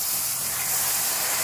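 Sugar syrup pours slowly into roasted semolina and gram flour for a semolina and egg halwa, giving a steady, loud, bright hiss that fills the short moment without pause.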